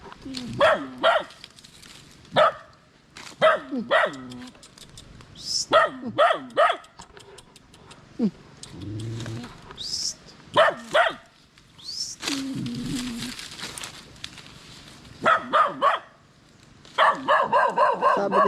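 A dog, a mother with four puppies, gives repeated sharp barks in short bursts and clusters, close and loud, with a few whimpering yips and quieter gaps between the volleys.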